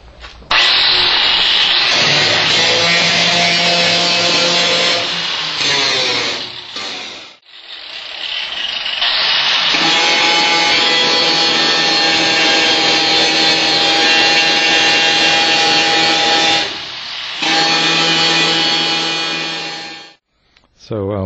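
An angle grinder works down a welded patch on a 1979 Chevrolet El Camino body, whining loud and close in long sustained runs, with a short pause midway and a drop at the end.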